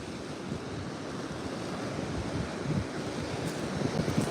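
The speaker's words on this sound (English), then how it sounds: "enjoy the sound of the ocean" Ocean waves wash steadily onto a beach where agates are hunted, a continuous broad surf roar with gusts of wind buffeting the microphone and slow swells rising louder toward the end, no voices.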